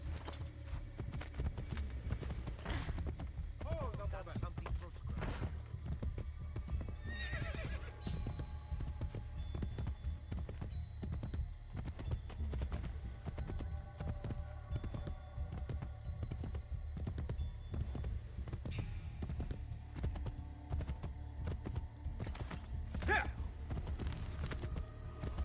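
Horse hooves clip-clop in a steady rhythm as a mount is ridden in the video game Assassin's Creed Brotherhood, over a low constant hum, with a brief whinny partway through.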